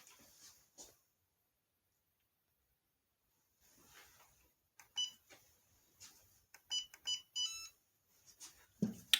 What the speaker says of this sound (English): You heard the little beep.